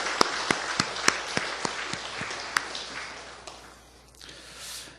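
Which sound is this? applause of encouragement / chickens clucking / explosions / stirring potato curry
applause of encouragement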